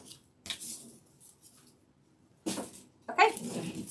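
Pieces of dried grapevine pulled apart by hand for a lemon wreath, giving several dry, scratchy snapping and rustling bursts up close, separated by near silence.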